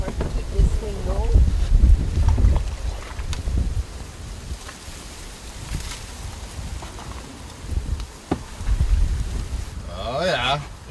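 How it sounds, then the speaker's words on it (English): Strong wind blowing outdoors during a fall muskrat trapping outing, buffeting the microphone in gusty rumbles that rise and fall, with people talking over it. "Another big wind today, huh?"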